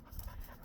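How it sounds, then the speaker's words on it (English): A dog panting at the beach, quick, faint breaths in a brief burst with outdoor ambience behind. "That's a happy puppy right there."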